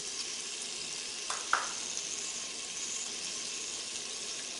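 Beef liver frying in a pan with red chili and turmeric gives a steady, soft sizzle throughout, broken by a couple of brief clinks near the middle, with no voices.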